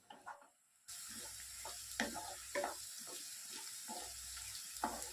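Sliced onions with ginger and garlic sauté in a pan for chicken fry, a soft steady sizzle that starts after a brief quiet moment, with occasional stirring scrapes and clinks.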